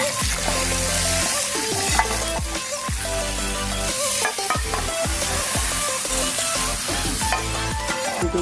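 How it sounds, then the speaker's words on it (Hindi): Cumin seeds and curry leaves sizzle in hot oil for a tempering, an intense, loud crackling fry with sputtering bursts and stirring scrapes, close up and without voices. "बघार में जीरा, कड़ी पत्ता, डाल चुके हैं।"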